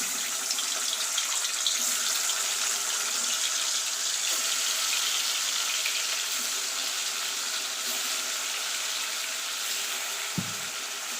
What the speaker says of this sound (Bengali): এবার আমি এক এক করে মাংসগুলো দিয়ে দেবো।